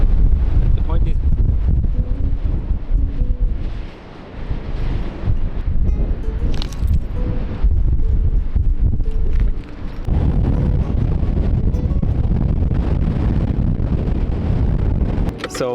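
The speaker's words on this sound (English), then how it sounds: "we are leaving now because the wind is really horrible. It's really heavy." Strong, heavy wind roars and buffets the microphone outdoors on Baja's coast near Bahía de los Ángeles, a loud continuous gusting rumble with brief lulls around the middle.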